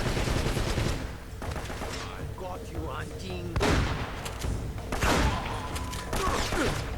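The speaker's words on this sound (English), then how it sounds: "Yeah, that took way more shotgun shells than it should have" Shotgun blasts in the Uncharted video game go off in heavy, booming bursts over about seven seconds, several sharp loud shots with rumbling tails mixed with other combat noise, and a voice is faintly heard underneath.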